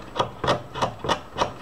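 A blade trims and thins the bristles of a paint brush, making five soft, evenly spaced scraping strokes, close and fairly quiet, with no talk.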